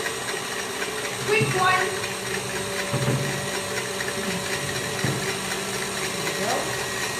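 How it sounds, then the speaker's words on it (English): A KitchenAid stand mixer whirs steadily as it whisks egg whites, an even motor hum running under a person talking. "now the KitchenAid and I are going to compete for sound"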